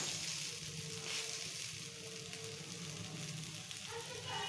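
Brinjal thalipeeth with green chilli thecha roasting on a flat tawa, giving a steady, even sizzle of frying throughout, close and moderately loud with no talk.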